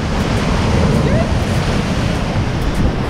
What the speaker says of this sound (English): We're about to get followed by wave.